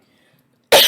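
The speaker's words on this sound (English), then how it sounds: "Had to cough." One sharp, loud cough bursts out near the end after a near-silent pause, close to the microphone.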